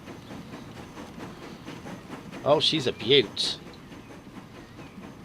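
A steam train in Transport Fever rolls along with a steady rhythmic chugging and clatter, with a couple of brighter whistle-like bursts in the middle and someone talking over it.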